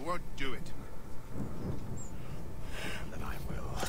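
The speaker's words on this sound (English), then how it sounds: "You wish us to sail into the storm." A thunderstorm at sea in Assassin's Creed 3 brings rumbling thunder and steady rain noise, with voices talking over the storm throughout.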